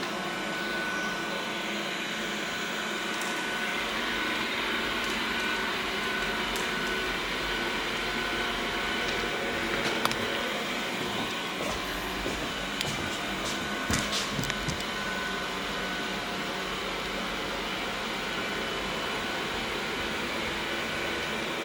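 A Narwhal robot vacuum cleaner runs across a home floor with a steady, even whir of motor and brushes, plus a few faint clicks and bumps, nearby and without talk.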